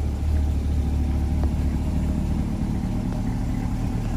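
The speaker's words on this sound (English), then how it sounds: "have a listen to the exhaust. Great note to it." A 2020 Corvette coupe with Z51 package idles from its exhaust, a deep, steady, close rumble with a slight throb and a couple of faint ticks, continuous and loud with no talking over it.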